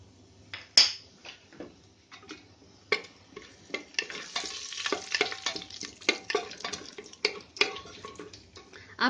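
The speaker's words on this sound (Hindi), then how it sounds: "सबसे पहले इसमें हम जीरा डाल देते हैं।" Cumin seeds sizzling in hot ghee in a pan, a soft crackling fry with a sharp clink near the start and intermittent spoon or utensil taps over the sizzle.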